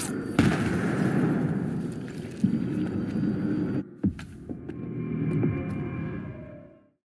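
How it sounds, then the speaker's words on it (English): A grenade goes off in STALKER: Heart of Chornobyl, a sharp blast cutting through a low droning hum and distant rumble, followed by a few smaller thuds before the sound fades to silence. "Explosion! Get down!"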